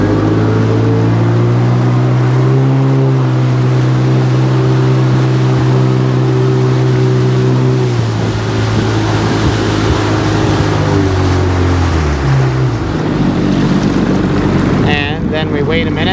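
Sea-Doo RXDI personal watercraft engine revving up on the water, a steady loud drone whose pitch climbs and shifts as it accelerates, with wind noise throughout and a brief rattle near the end.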